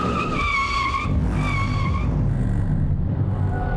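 A car brakes hard and its tires skid to a halt, a loud sustained screech that sweeps downward and fades under steady engine and road noise.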